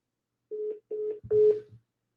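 Telephone dialing tones sound as three short, steady electronic beeps spaced evenly, with the last one a little louder and rougher. They are heard alone with no talk.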